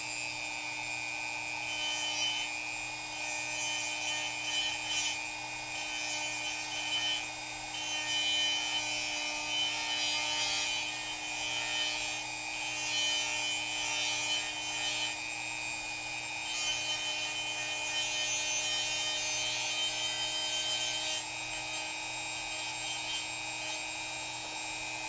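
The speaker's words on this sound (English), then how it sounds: "This is the Dremel 4000 going and doing its thing." A Dremel 4000 rotary tool grinds away at the ankle of a He-Man toy figure, giving a continuous high-pitched whine with a gritty rasp that keeps on fairly evenly and stays somewhat faint.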